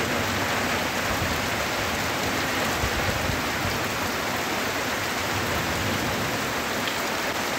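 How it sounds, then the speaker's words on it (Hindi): Heavy rain falls on a village, a dense, steady, even roar of drops on surfaces, close and continuous with no voices. "हम लोग अभी बारिश का मजा ले रहे हैं, इतने दिनों के बाद बारिश हुआ है।"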